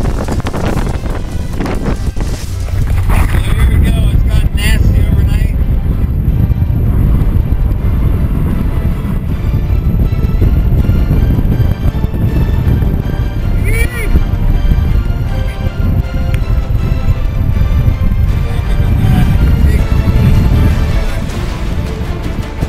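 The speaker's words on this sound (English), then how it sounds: "The wind becomes ill as it moves across the compass from north to south to southwest." Strong storm wind roars continuously across a single-handed sailboat at sea as the wind shifts from north to southwest, a loud, dense rushing with gusty swells and flapping noise, with voice-over talk heard in places.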